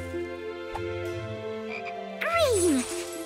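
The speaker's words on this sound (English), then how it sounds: "Oh, and this frog." Cartoon frog in a children's animated colour-learning series gives one loud, drawn-out croak that sweeps downward in pitch, over sustained background music.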